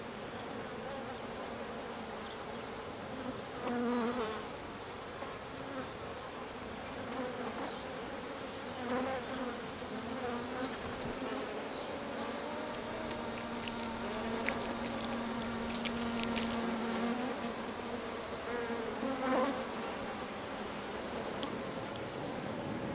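Insects buzz around nectar-bearing flowers: several bee-like hums drift in and out, rising and falling as they pass close and move away over a soft outdoor background, with no voices.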